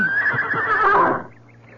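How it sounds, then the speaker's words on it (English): A horse gives one close, loud neigh that rises and then trails off in a radio drama scene on a bridge, with a faint clip-clop beneath. "we intend to walk our horses across the bridge"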